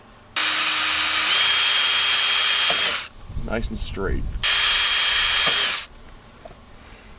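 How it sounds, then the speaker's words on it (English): A power drill whirs in two loud, steady bursts, drilling holes in a Honda CR-V, with a short pause between them where a person speaks briefly. "we'll drill our new holes"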